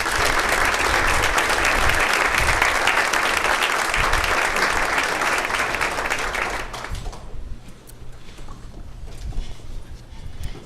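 Audience applause greets a speaker at an awards celebration event, a loud sustained burst of many hands clapping that fades out after several seconds, leaving a quieter room.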